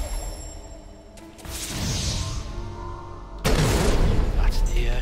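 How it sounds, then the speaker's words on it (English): A charged attack explosion in Ori and the Blind Forest, with a whooshing build-up followed by two loud, booming bursts with heavy low rumble, close and full over game audio. "Explosion."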